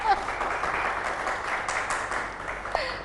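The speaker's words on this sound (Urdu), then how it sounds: "پھر میرے لیے بھی تالیاں ہونی چاہیے." An audience at a Ramadan naat competition applauds in a steady, dense wash of clapping, with a brief voice over it near the end.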